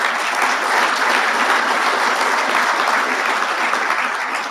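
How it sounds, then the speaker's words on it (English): An audience at a military awards dinner applauds, a loud, dense, continuous wash of clapping with no voices over it. "Another round of applause for our friends."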